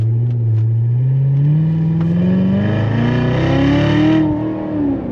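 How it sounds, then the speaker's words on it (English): A Chevrolet C7 Corvette Z06 with a Lingenfelter-tuned engine revs loud and close, its note climbing steadily and then easing off, heard alone with no talk. "The sound of this car is what I think when I think of the United States of America."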